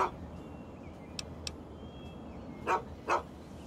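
A dog in the video game Fallout 3 gives two short barks, faint and a little distant over a low steady background hum, after a couple of small clicks.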